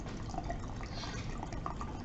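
Distillate dripping and splashing into a beaker during steam distillation in a lab, a faint continuous trickle with small irregular drips under a low background hiss.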